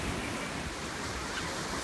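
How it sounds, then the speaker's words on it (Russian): Sea surf washing onto a beach at a resort in Turkey, a steady, close roar of waves with wind buffeting the microphone and no voices. "Мы стоим тут на море."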